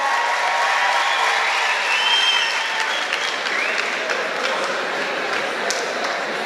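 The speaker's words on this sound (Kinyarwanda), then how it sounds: "amashyi cyane kuri Muhinde" A live comedy show audience applauds for a comedian, dense sustained clapping filling the room at steady volume for the whole stretch, with faint cheers mixed in.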